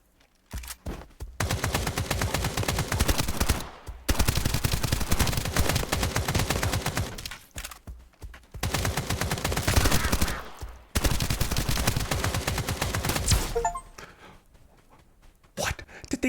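Rapid bursts of video game gunfire during a multiplayer shootout in an extraction shooter, dense automatic volleys in several long stretches separated by brief pauses, loud and close.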